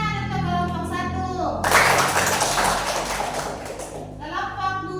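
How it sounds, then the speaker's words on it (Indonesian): Brief burst of applause for a classroom group erupts for a couple of seconds between stretches of a person talking, a dense patter of hand claps that fades as the voice resumes. "Tepuk tangan untuk kelompok 1."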